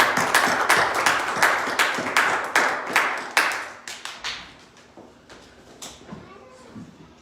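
A church congregation at a Sunday service claps to welcome a speaker. The clapping is loud and close, with sharp, fairly regular claps that thin out and fade toward the end as a voice begins.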